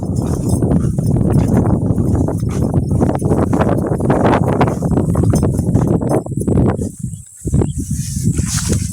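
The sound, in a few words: horses climbing out, hooves clip-clopping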